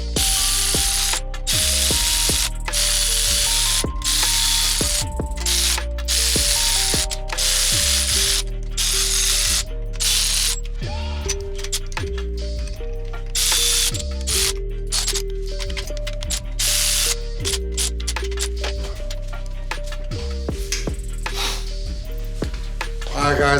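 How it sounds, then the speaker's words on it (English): An old Craftsman needle-type torque wrench ratchets steadily, tightening bolts on a K24 engine build, its rapid metallic clicks repeating in close, loud bursts that fill the whole stretch. "I'm gonna use this old Craftsman's torque wrench, the needle driven torque wrench."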